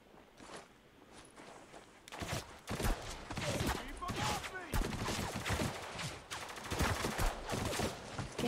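Sharp, repeated bursts of rifle fire from the third-person military shooter Spec Ops: The Line, in close, loud volleys mixed with scattered shots and footsteps, while a voice talks over the action.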